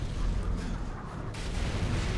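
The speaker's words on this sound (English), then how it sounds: "Ah! Explosions! Run!" Heavy in-game explosions and gunfire in Call of Duty, with deep rumbling booms and dense battlefield blasts filling the whole moment.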